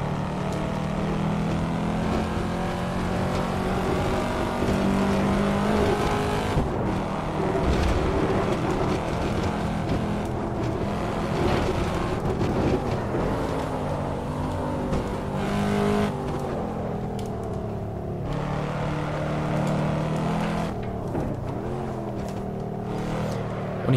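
A Corvette C7 Stingray is driven in the Assetto Corsa racing game, its engine droning loud and continuous with revving shifts and gear changes, steady throughout with no voices.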